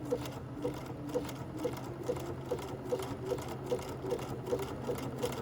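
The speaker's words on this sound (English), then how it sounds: "It will move slowly through because it's making a really tight zigzag right now." A Bernina 335 sewing machine stitches a tight zigzag buttonhole, giving a steady, moderately quiet mechanical whir with a soft regular ticking pulse throughout and no talking.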